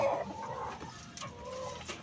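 A hen clucks nearby, a few low throaty calls over a short stretch, with no talking.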